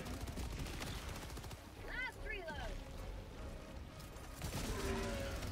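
Sentry turret in Helldivers 2 firing rapid, continuous bursts, with dense gunfire running the whole time beneath chaotic game effects and a talking voice.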